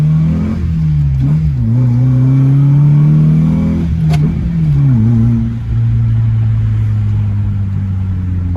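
A modified car that is not properly tuned revs and drives along, its engine droning loud and steady with rising and falling pitch as it accelerates and eases off, close by and with no talk.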